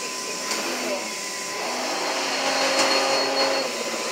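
A Henry vacuum cleaner runs steadily at strong suction, a loud continuous whine and rush that stays close and even throughout, with a voice speaking over it.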